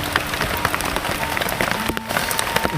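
Rain pours down outdoors during a spicy squid meal, a dense, loud crackling patter of drops hitting surfaces with scattered sharper splashes throughout and no clear talking.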